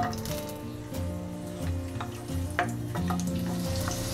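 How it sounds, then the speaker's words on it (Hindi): Garlic sizzles in hot oil in a pan as peanut chutney gets started, a steady close frying hiss running throughout over faint tonal background sound. "लहसुन डालेंगे।"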